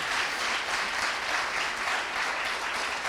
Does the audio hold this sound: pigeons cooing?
no